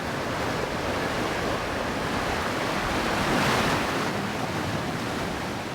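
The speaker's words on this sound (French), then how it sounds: "le vacarme de l'eau venant s'abattre sur les rochers" Ocean waves crash onto the rocks of the pink granite coast in Brittany's Trégor, a dense continuous roar of surf swelling slightly in the middle, loud and close with wind noise and no voices.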